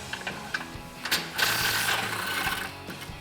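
An impact wrench breaking free the bumper nuts on a Jeep Wrangler JL, a close, loud mechanical ratcheting burst that rises into a sustained hammering whir for about two seconds, no talk.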